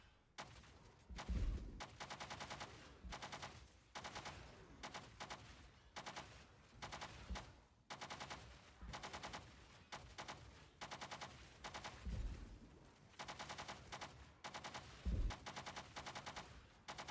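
Rapid bursts of crossbow fire from a poison crossbow build in Path of Exile, short volleys repeating throughout with brief gaps and occasional heavier thumps of impacts, loud and without talk.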